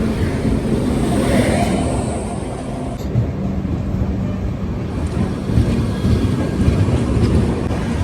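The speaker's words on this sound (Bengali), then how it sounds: "আমাদের ট্রেন চলে এসছে দেখতে পাচ্ছ" The Jalpaiguri Road to Sealdah Humsafar Express arrives at a station as its engine passes, a loud sustained low rumble and roar of rolling wheels and motor, with wind buffeting the microphone.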